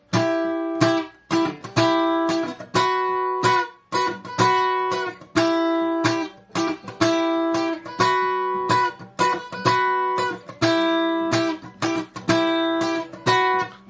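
Funky acoustic guitar part from an anime character theme, with short, choppy muted strums and ringing chord stabs in a steady syncopated rhythm, played close and clear with no voices.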